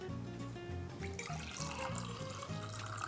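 Liquid is poured in a home kitchen, giving a steady, close trickling splash for about three seconds over a low tonal background.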